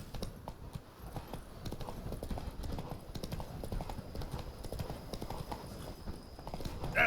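Hooves of a horse galloping in the video game Witcher 3 make a steady, fast clip-clop rhythm that carries through the whole stretch, with no talk over it.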